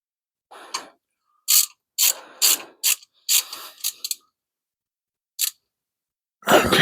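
A socket ratchet clicks in short bursts while a thermostat goes into a 5.7 Hemi engine, crisp close ratcheting strokes separated by pauses, with a louder clunk at the end.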